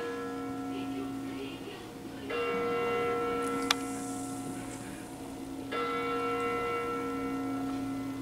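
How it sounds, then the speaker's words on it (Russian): Clock chimes ring out at midnight on New Year, two deep resonant bell strokes spaced a few seconds apart, each leaving a long humming decay over a low background hum. "Куранты бьют"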